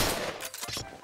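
Rapid gunfire in the shooter game Point Blank, a dense burst of loud shots crackling through the whole second with a brief dip midway and another shot at the end.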